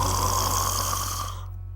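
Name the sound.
cartoon puppy snoring loudly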